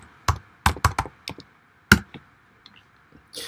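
Someone types on a computer keyboard, producing a close, irregular run of sharp key clicks in fast clusters, with brief pauses between them.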